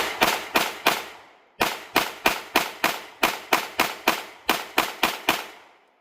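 A compensated Sig Sauer Macro pistol fires loud, sharp shots close by in quick strings of four or five, with short pauses between strings.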